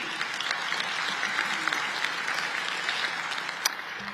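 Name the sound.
audience applause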